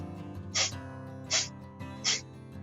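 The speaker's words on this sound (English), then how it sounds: "we're going to play with the breath of fire" Three sharp, forceful nasal exhales come evenly spaced about three quarters of a second apart, each a brief hissing puff over a soft, sustained musical background.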